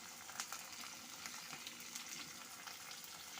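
Chopped onion and chilli sizzle in hot oil, a faint, steady crackle with small pops and occasional soft stirring scrapes, heard close with no voices.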